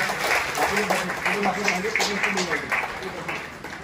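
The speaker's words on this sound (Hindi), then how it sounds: "जोरदार तालियां।" Audience applause at a Bharat Bharati organisation event in India, a dense steady crowd clapping close by, with voices talking over it throughout.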